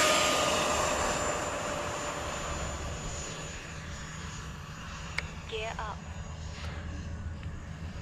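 E-Flite F-16 Thunderbird 70mm electric ducted-fan RC jet flying, a steady whining roar that slowly fades as it moves away, with a voice talking over it.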